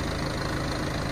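A John Deere 310D backhoe engine runs close by with a loud, steady diesel rumble and clatter that holds even throughout.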